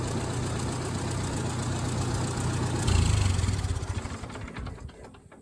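Old tractor engine still running on points ignition, idling with a steady low chugging rumble that swells briefly, then falters and winds down toward silence at the end.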